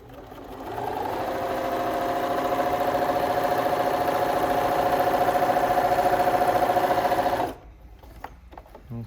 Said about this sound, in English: I'm just going to sew down that to hold it together.